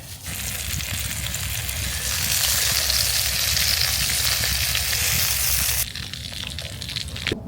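A Caribbean steak burger frying in oil on a camping stove, with a steady loud sizzle that holds throughout and then softens slightly near the end.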